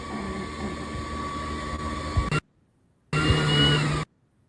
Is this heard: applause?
no